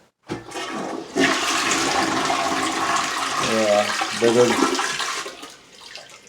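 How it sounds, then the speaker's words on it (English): A toilet flushes with a loud rushing gush of water that swirls and drains away over several seconds, with a brief word spoken near the start. "what we're gonna do first, flush the water."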